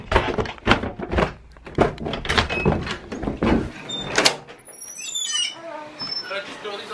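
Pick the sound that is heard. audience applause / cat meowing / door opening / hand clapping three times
door opening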